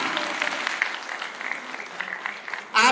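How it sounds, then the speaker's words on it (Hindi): Loud, dense applause from a community gathering welcoming a deputy chief minister in Dudu, Rajasthan, a sustained roar of many hands that cuts off abruptly near the end. "हमारे जोरदार तालियां"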